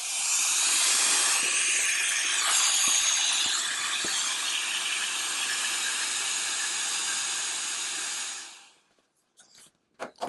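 A Roedix R8 mini wireless air duster, set to high, inflates a camp pillow with a loud, steady blowing hiss that runs for about nine seconds and then cuts off, followed by a few light handling clicks.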